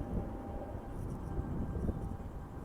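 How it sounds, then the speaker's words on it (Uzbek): An airplane passes overhead in Tallinn, Estonia, heard as a faint, distant low rumble that stays steady and hazy for a few seconds, with no other prominent sounds. "Naryoqda samolyot ham ketyapti."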